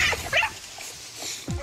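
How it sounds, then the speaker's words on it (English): A powerful boxer dog named Mocha fights, giving short yips, whimpers and a bark amid scuffling noise, mid-distance and brief. "At Caesar's Dog Psychology Center, the powerful boxer Mocha has just attacked one of Caesar's pack."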